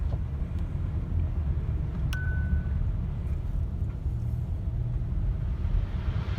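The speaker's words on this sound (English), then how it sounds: "love the way the V6 sounds in this too" Steady low rumble of a 2020 Kia Telluride S AWD V6 cruising through snow and slush, cabin road noise throughout with a brief soft chime partway, no talking.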